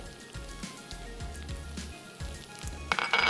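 Turmeric and ground red chili fry in a pan of hot oil with a steady close sizzle, a few low scraping stirs, and a brighter burst of spattering near the end.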